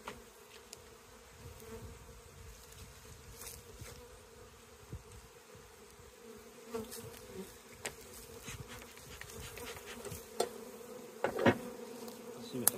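Honey bees hum steadily at an open hive, the workers' drone quiet but constant throughout, with a few closer buzzing passes and faint handling knocks during the inspection.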